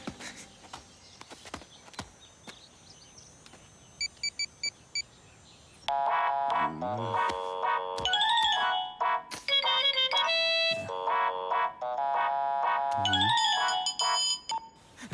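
A phone call being placed: a few short dialing beeps first, then a loud melodic ringtone that repeats for several seconds, with no talking.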